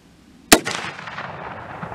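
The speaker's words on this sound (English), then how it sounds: "So I'll just shoot at that old fence post I had the target laid on." A single 30-30 or 30-40 Krag rifle shot aimed at an old fence post cracks out loud and close, its sharp report trailing into a short outdoor echo, with nothing else heard.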